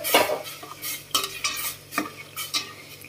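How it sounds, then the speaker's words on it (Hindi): Custard powder mixed with water is poured into hot milk and stirred, giving a few separate scraping, clinking stirring strokes of a utensil against the pot, close and alone. "अभी इसमें हम लोग कस्टर्ड का पाउडर वाटर में डाला हुआ मिक्स करके इसमें डाल देंगे इसको"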